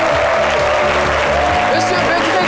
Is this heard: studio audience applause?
yes